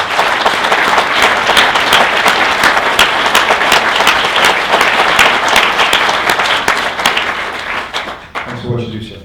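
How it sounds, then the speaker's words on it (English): Audience applause at a veterans organization's 20th anniversary event, loud, dense and sustained clapping from a large crowd, fading out near the end as a voice begins. "And I think Rick deserves a round of applause for that"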